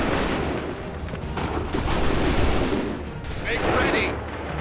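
Musket volley gunfire in Assassin's Creed 3, a dense continuous rumble of massed shots and booms that swells and fades over several seconds, with shouting voices in the mix.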